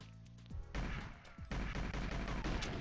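Gunshots in the video game GoldenEye, a quick string of loud sharp shots followed by dense sustained automatic fire, close and punchy.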